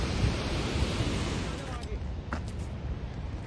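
Mountain waterfall fed by glacier melt, pouring down from above along the Hampta Pass trek between Shea Goru and Chandra Taal; a steady, loud, broadband rushing roar fills the clip without letup.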